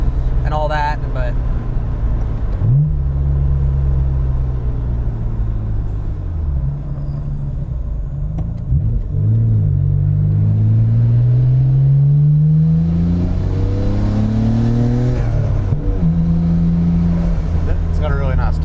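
A JDM car's engine rumbles steadily from inside the cabin, its deep exhaust tone rising and falling through several revs, with one long climbing pull in the middle.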